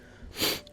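A single short human sneeze, close and fairly loud, with a breathy burst rising and falling in under half a second against quiet background.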